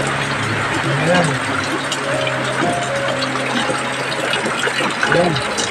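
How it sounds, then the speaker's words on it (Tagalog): Water pouring into a container from a motor-driven pump on a rainy afternoon, a steady rushing flow under nearby voices talking. "Dami na yung tubig."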